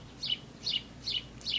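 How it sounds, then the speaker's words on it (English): A bird chirps indoors in four short, evenly spaced bright calls, each faint and nearly the same, with no talking. "I apologize for the bird."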